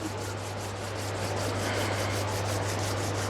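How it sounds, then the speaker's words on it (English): Palms of both hands rubbing briskly together during a calm yoga session, a steady, close, continuous dry swishing friction that grows slightly louder toward the end. "Rub your both palms together"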